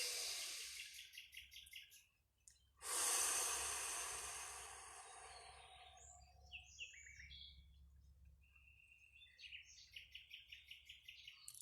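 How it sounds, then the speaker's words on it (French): A deep breathing exercise outdoors in the sun, with one long, soft, airy exhale that fades slowly while birds chirp steadily and faintly around it. "J'aime bien cette respiration parce que ça permet de se donner à soi."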